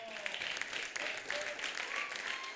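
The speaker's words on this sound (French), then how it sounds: "applaudissez très fort pour ce grand frère" Audience applause at a French-language event, a steady wash of clapping from the crowd with voices talking over it.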